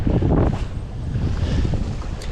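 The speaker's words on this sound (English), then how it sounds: "it's a bit more windy here than I thought" Strong wind over rocky drop-offs on the coast buffets the microphone in a continuous low rumble, gusting heavier at the start, with no talking.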